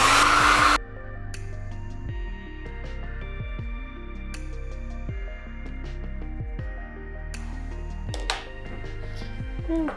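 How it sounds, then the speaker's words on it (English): A blow dryer blasts briefly at the start, used to heat melted chocolate, then cuts out, leaving quieter clinks and faint scraping with a short burst of noise later. "I'm going to keep this nice and fluid by just adding a bit more heat with the blow dryer."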